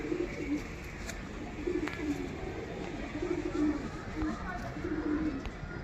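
Pigeons at a pigeon sale coo in repeated low, soft phrases every second or so, close by over a steady murmur of background noise, with occasional faint chirps.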